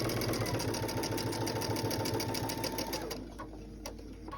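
A sewing machine stitches a quilt seam with a fast, steady mechanical chatter at close range, then stops abruptly near the end, leaving a faint clack and room hush.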